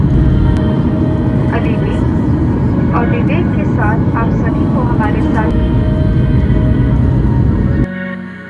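An airliner descends toward landing at Kochi with flaps set, a loud, steady low engine roar filling the cabin, with people talking over it before it drops off near the end.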